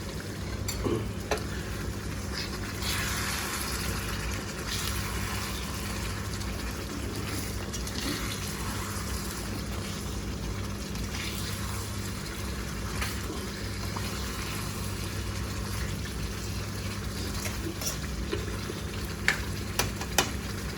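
Chicken karahi being stirred in a pan, a steady close sizzle and frying hiss with soft scraping running throughout, a few sharp clinks near the end.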